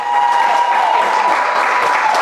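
A crowd applauds loudly and continuously at a lively entertainment show, dense even clapping holding steady throughout, with light voices mixed in.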